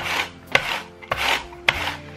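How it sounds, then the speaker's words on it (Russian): Kitchen knife dicing an onion into small cubes on a board, a steady rhythmic rasping and rubbing of the blade with a few sharp taps, close and alone. "Затем разворачиваем луковицу и нарезаем поперек тоненько, кубиками получается."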